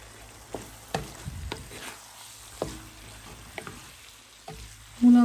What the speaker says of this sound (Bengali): এখন আমি মাছটা বসিয়ে দিব।